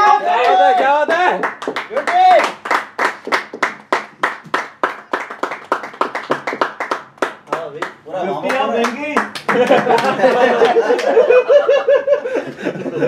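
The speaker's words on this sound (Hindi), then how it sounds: "तालियां मार रहे हो बचा" Sharp handclaps from a small group at an amateur cricket match between Columbia CC Classic and Columbia Colts, a steady run of separate claps at close range mixed with chuckles and excited talk, then a burst of overlapping chatter.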